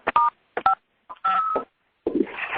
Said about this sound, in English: now I'm going to unmute the phone line